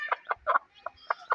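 An Aseel hen clucks to her chicks with a string of six or seven short, close clucks in an uneven rhythm, with soft low thumps between them.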